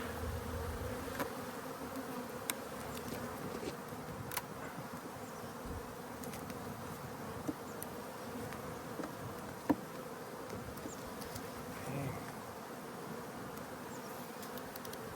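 Honeybees hum steadily and softly around an open hive during a spring inspection, a continuous mid-pitched buzz with occasional louder passes of individual bees close by.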